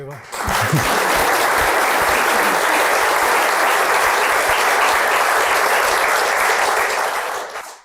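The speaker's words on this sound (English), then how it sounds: "I'd like to applaud you on this." Sustained audience applause fills a hall at a health award ceremony, a dense, steady roar of many hands clapping together that holds loud for several seconds before tapering off at the end.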